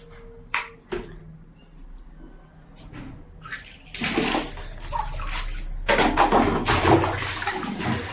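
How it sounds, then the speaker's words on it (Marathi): Hot water gushes from a tap into a bathtub, a few clicks and knocks first, then a loud steady rushing pour that continues to the end. "गाईज, आता मी गरम पाणी लावतो आंघोळीसाठी."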